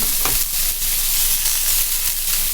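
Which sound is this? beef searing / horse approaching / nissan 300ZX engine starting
beef searing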